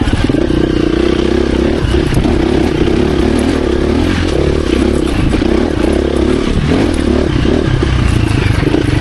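A 2024 KTM 350 EXC-F dirt bike rides hard off-road, its engine loud and close as it revs and lugs. The tone shifts constantly, with clattering and scraping from rough terrain mixed in.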